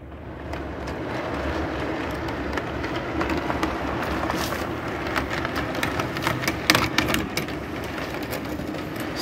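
Twelve Menards O scale Chessie coal hoppers with freshly oiled axles roll along model track, giving a steady close rumble of wheels with scattered clicks and ticks at rail joints, no voices.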